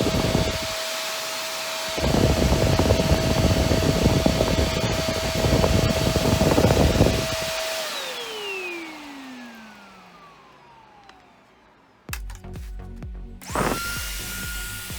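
An Iwoly V600 corded vacuum cleaner runs at a steady high whine, surges louder for several seconds, then spins down with a falling pitch before a brief restart burst near the end.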